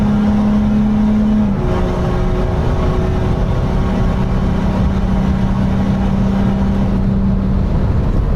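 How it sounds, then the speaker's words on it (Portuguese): A VW Amarok V6 pickup with a stage 2 tune, 340 hp, DPF and EGR removed, roars under acceleration with a loud, steady droning note. The pitch drops sharply once, like a gear change, then the engine pulls on. "O ronco no motor 6 cilindros em V é bonito."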